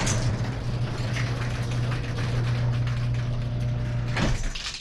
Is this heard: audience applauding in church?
no